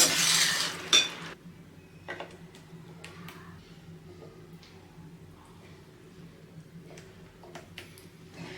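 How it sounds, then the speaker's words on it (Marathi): Chole masala served from a pot onto a plate: a couple of clear metal clinks near the start, then sparse soft ticks and scrapes of a spoon against cookware over a low steady background hum. "तर एक छोलीची भाजी आपण ताटात वाढवून घेऊया"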